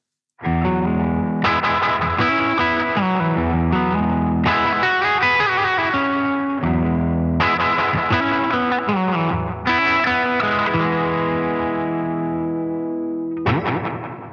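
Electric guitar played through a NUX Atlantic pedal, delay feeding into reverb, with slightly driven chords and picked phrases trailing into echoing repeats and a wash of reverb, ringing out alone for several passages before a final strum.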